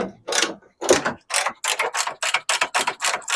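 A ratchet wrench works a nylock nut off the inside of an MG rear bumper, giving repeated loud, close clicking bursts in a steady back-and-forth rhythm.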